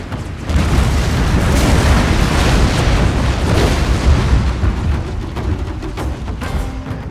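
A massed barrage of catapult-launched bikyeokjincheonroe explosive shells in Shogun 2 erupts as a sustained wall of loud, overlapping blasts and rumbling booms, with sharper individual bursts poking through toward the end.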